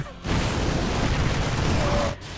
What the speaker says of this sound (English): Yamato Cannon.